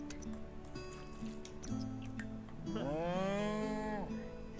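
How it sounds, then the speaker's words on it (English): A cow in a video game gives a long, drawn-out moo, clear and fairly close, over a low bed of game ambience with soft dripping and squishy background sounds. "Oh, there's a happy cow."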